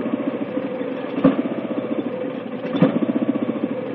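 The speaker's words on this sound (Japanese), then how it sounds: "エンジンは4ストロークの3気筒のエンジンが乗ってますので" An Iseki lovely mini four-row rice transplanter's four-stroke three-cylinder engine idles close by with a steady, rapid chugging pulse, broken by two brief sharp clicks.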